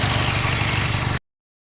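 Steady engine idle from a 1991-1997 Ford Escort with its automatic transmission in drive, a continuous even hum with a low rhythmic pulse, close and constant before cutting off abruptly.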